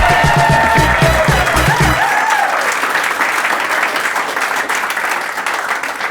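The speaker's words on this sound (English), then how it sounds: "Big round of applause, everyone." Studio audience on a show breaking into loud, sustained applause, a dense wash of clapping with some cheering that follows a brief stretch of music and carries to the end.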